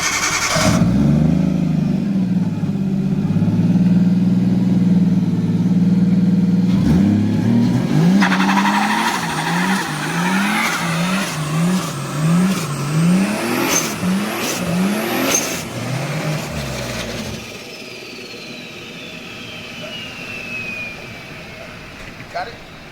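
A Nissan 240SX engine with a suspected broken twin-disc clutch revs hard and steadily, then climbs in repeated surges as tires spin and squeal, with voices faint underneath.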